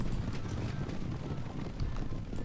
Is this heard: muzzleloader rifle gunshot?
no